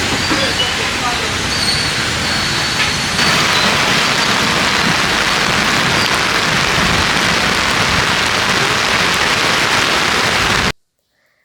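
Heavy monsoon rain pours down on a waterlogged road in front of Kothamangalam Taluk Hospital in Kerala, a loud dense unbroken hiss that cuts off abruptly at the end.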